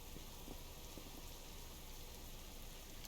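Steady rain falls across an outdoor hillside hunting area, a continuous even patter with no pauses, moderately loud and close, with no voices over it.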